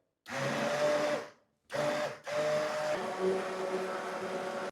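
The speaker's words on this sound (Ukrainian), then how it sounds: "Занурюємо блендер на мінімальних оборотах обов'язково і перебиваємо." An immersion blender running on low speed purees a vegetable cream soup, giving a steady motor whir in two bursts separated by a brief pause, then a continuous stretch at close range.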